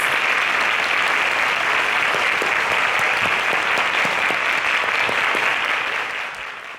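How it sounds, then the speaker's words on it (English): Sustained audience applause at a televised quiz grand finale, dense steady clapping from a large crowd that holds loud throughout and tapers off slightly at the end. "A round of applause."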